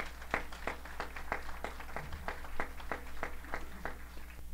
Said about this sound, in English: Let's give another round of applause for that beautiful rendition of our national anthem